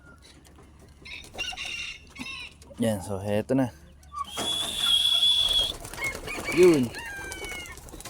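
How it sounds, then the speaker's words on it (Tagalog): Young racing pigeons coo and flutter their wings in a loft, soft burbling calls and flapping bursts mixed with someone speaking Filipino nearby. "so heto na yung ating mga ibon"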